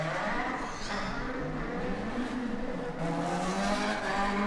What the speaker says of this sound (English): distinctive sound from the Hondas